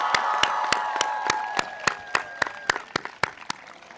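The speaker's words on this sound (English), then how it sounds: "Let's give them a round of applause." A graduation audience applauds, with dense clapping and some cheering at first that thins into scattered, fading claps toward the end, with no talking over it.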